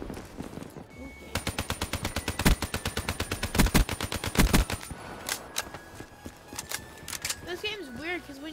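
Rapid automatic gunfire from Call of Duty Black Ops III multiplayer on the Nuk3town map, loud dense bursts of shots in quick rhythm with brief pauses, under a speaking voice.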